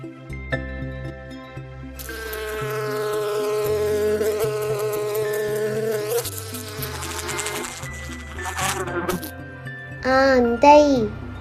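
A bee's buzz drones continuously and rises and falls in pitch over light background music, close and prominent, ending with a short, higher voiced sound near the end.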